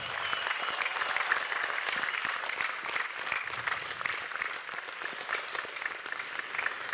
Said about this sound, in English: I think we just need to give a cheer just to get in the right mood.